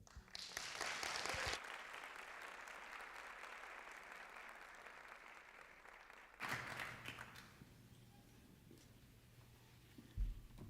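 Audience applause after a Black History oratorical competition speech, a loud burst of clapping that fades into a quieter sustained patter, breaks off, then returns briefly in a second burst before dwindling to sparse claps.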